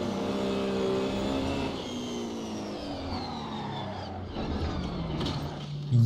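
Race car engine in the Assetto Corsa driving game, revving hard through shifts and easing off as the car slides through a corner exit, a continuous loud whine with falling and rising pitch.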